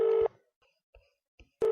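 Telephone line tones while repeatedly calling a phone: a loud steady beep tone cut off abruptly, a few faint clicks and blips in near silence, then the tone resuming at the end, with no speech.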